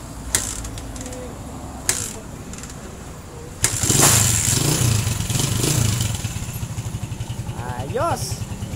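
A 2009 Honda TMX 155 motorcycle engine idles and revs close by with a rhythmic putter, mechanical clicks and someone talking over it while the carburetor is tuned.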